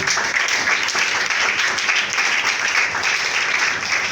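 A church congregation applauds together during a praise and worship service, a dense, sustained burst of clapping that stays loud and even throughout.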